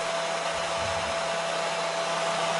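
A hair dryer blows during a Twitch livestream, giving a steady, even whooshing hum with a constant tone. It runs alone at moderate loudness from start to end.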